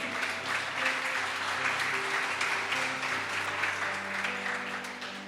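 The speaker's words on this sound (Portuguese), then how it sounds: "dá um forte aplauso ao Senhor Jesus" Congregation applause at an Easter church service, a broad steady wash of clapping lasting several seconds with sustained tones from music or keyboard underneath, no talk over it.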